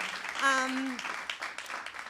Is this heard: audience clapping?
yes